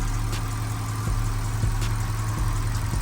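An Audi A6 engine idles smoothly after a timing chain repair, a steady low hum up close with faint periodic ticks and no rattle, no talking.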